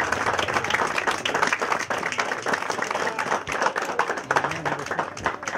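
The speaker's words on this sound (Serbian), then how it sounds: "jedan veliki aplauz" An audience at a plum fair event in Osečina applauds the plum queen with loud, sustained clapping that fills the space steadily for several seconds.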